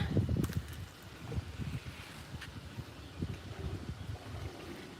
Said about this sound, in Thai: ที่นี่ลมแรงมากเลยค่ะ